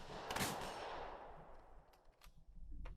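Gunfire in the turn-based wargame video game Second Front: one fairly quiet burst of shots that fades out over a long, echoing tail, followed by a few faint clicks.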